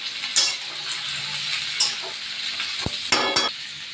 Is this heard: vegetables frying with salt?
yes